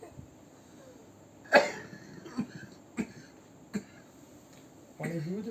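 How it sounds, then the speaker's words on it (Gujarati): A person gives a few sharp, separate coughs and a throat clear spaced a second or so apart in a quiet room, then starts talking. "નહીં, ઉધરસ જરાક છે."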